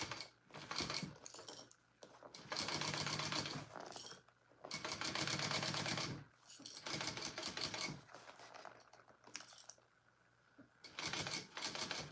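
A sewing machine stitches a mini bowler bag in several bursts of rapid mechanical clatter, each run lasting a second or two and separated by short pauses, heard close up.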